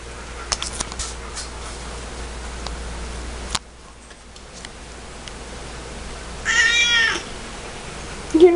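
Kitten gives a single clear meow near the end, close and fairly loud, after a stretch of quiet room sound with faint ticking and a brief rustle.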